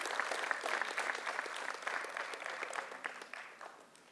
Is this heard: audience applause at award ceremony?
yes